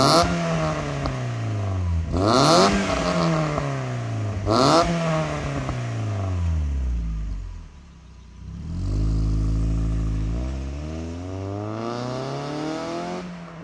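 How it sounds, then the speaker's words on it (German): A Mazda MX-5 fitted with a Sebring exhaust system revs repeatedly, each blip rising and falling in pitch, loud and close, with no talking over it. "Hinten eine Auspuffanlage wurde installiert vom Vorbesitzer."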